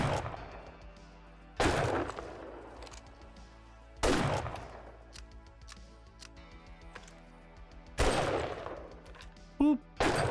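Three loud, sharp rifle shots from a sniper in a video game ring out at even intervals of a few seconds, each with a long decaying echo, over a steady ambient game soundscape with a small extra click near the end.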